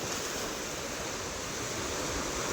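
Sea waves wash steadily against the shore at Harshiddhi Mataji as the tide rises, a continuous loud broadband roar of surf with no pauses or voices.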